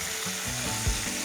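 Halved garlic frying in a pan for a curry, a close, steady sizzle with a few scraping strokes from a flat spatula.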